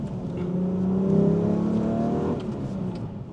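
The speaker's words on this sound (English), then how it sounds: "Mitsubishi V6s are underappreciated. This engine feels eager, it feels healthy." A Mitsubishi Magna Ralliart V6 revs up into a strong, rising engine note, holds briefly, then eases off, heard close and without voices.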